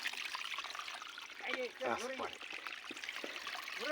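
Water trickling and streaming out of a mountainside, a steady soft flowing wash heard close by, with someone talking over it.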